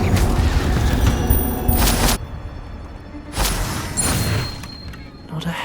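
Incendio fire spell cast in Hogwarts Legacy, heard as loud whooshing, booming bursts of flame that flare up, cut off sharply, then flare again over a constant rumbling game backdrop.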